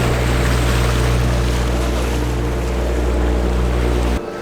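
A boat ride on the water in Bruges, Belgium: a steady motor drone and rushing water stay loud and continuous, then drop away sharply near the end.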